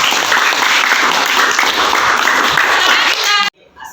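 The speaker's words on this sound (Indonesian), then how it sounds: "tepuk tangan untuk kita semua" A classroom of students claps in a dense, loud, continuous round of applause that cuts off abruptly near the end.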